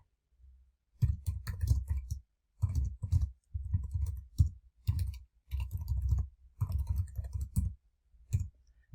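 Computer mouse clicks while working in PAVE PDF accessibility software, heard as clustered runs of soft, close clicking separated by brief pauses, with no voices.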